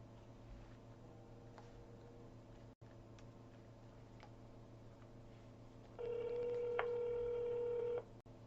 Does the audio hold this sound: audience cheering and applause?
no